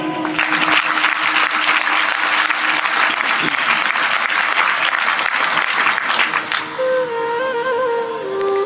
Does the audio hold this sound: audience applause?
yes